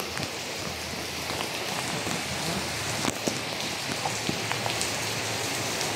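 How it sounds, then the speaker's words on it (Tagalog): Heavy typhoon rain pours steadily during Typhoon Carina, a dense continuous hiss of drops striking surfaces, with occasional louder splatters and no voices. "Grabe. Ang lakas ng ulan. Talagang bagyo."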